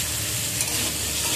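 Cut potatoes go into hot oil spiced with whole garam masala and cloves, giving a loud, dense, close sizzle with stirring scrapes throughout the short burst.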